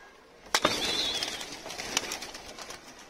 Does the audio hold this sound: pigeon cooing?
yes